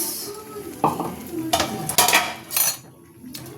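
A spoon stirs a thick paneer navratan curry with a paste of almonds, cashews and peanuts in a pan, giving several scraping, clinking strokes with a light sizzle underneath, close and fairly loud, without talk.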